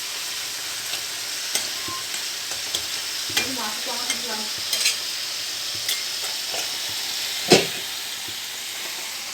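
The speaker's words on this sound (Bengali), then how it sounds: "এখানে লাল শাক হচ্ছে ভাজা।" Red amaranth leaves (lal shak) fry in a pan with a steady sizzle, while a utensil stirs them in scattered scraping strokes and knocks. One sharper clatter sounds near the end. Nobody speaks.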